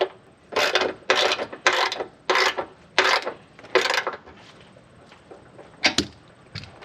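A 19mm wrench tightens a RockJock anti-rock nut against a 2021+ Ford Bronco frame, giving about seven close, even bursts of rasping ratchet clicks, each under a second long, with no talk.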